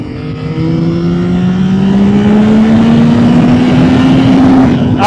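Yamaha XSR900 GP motorcycle engine revving hard, a loud rising howl with pitch climbing steadily over about five seconds, up close and alone.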